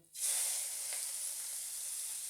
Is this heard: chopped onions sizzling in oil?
yes